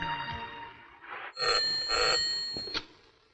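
An old telephone rings with bright, bell-like trills in short bursts, fairly close and clear over a quiet indoor room, with no talking.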